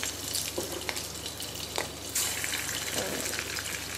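Idli batter bondas fry in oil over a low flame, giving a steady, even sizzle with faint bubbling and a few soft clicks throughout.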